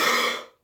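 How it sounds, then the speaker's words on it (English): A single harsh cough bursts out close and loud, then decays over about half a second into silence, with no talk around it. "Oh, this stupid cough."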